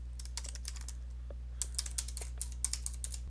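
Typing on a computer keyboard while entering a customer deposit purpose, a quiet run of quick, irregular key clicks that grows busier in the second half over a low steady hum.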